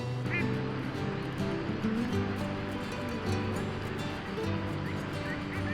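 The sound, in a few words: mallard ducks quacking at a city park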